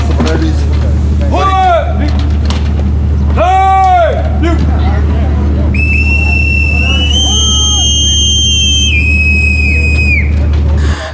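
A piercing, prolonged whistle greets arrivals aboard a Myanmar navy frigate: a sustained shrill tone holds for several seconds after two short warbling calls, over a low engine drone and crowd murmur.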